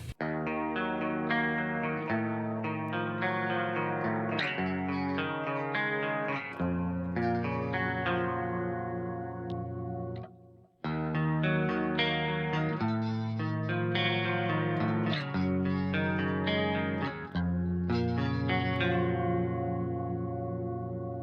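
A clean Ibanez RGD71AL electric guitar on the bridge pickup plays strummed chords and ringing notes with a glossy, chorused tone, continuing for a while with one brief pause midway.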